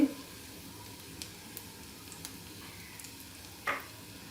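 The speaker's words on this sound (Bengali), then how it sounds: "পেঁয়াজ কুচিগুলো হালকা হালকা ভেজে নেব" Chopped onions fry lightly in the small amount of oil left from frying eggs, giving a faint, steady sizzle with a few soft stirring clicks and one brief clatter near the end.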